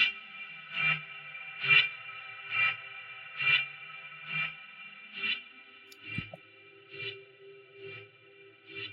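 A distorted, glitchy processed tone pulses in a steady rhythm, about one swell per second, with echoing, chorus-like smearing and no voices.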